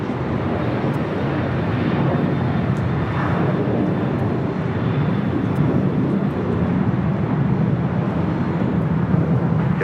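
An Airbus A350-900 airliner touches down on the south side of LAX airport, its steady broadband engine roar filling the whole stretch, loud and continuous, with no talk.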